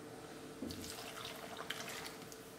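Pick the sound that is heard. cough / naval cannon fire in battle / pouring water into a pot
pouring water into a pot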